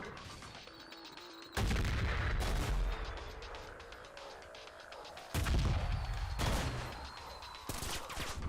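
Heavy mortar and gunfire in the shooter game Trepang2: two loud booming volleys of rapid bursts land about four seconds apart, with lighter crackling fire and rumble continuing between and after them.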